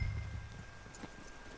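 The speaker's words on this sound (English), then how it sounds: "Riding horses into bloody trees." Horses' hooves clip-clop faintly through a forest in Red Dead Redemption 2, a soft rhythmic tapping over a low rumbling background.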